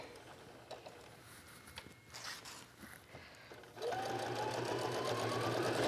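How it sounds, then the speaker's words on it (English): A sewing machine stitches a card wallet seam, starting after a few quiet handling taps and then running continuously and close with a rising whir that holds steady to the end. "And here I'm just sewing all the way around this"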